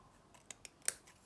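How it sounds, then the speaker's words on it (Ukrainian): Scissors snip through paper during a children's paper appliqué craft, several short crisp cuts spaced across a quiet moment, the third one loudest and closest. "я можу вирізати ножицями"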